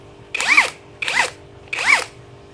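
An APR 500NM impact wrench spins up in three short bursts, each with a rising and falling whine, separated by brief pauses, close and loud with no voices.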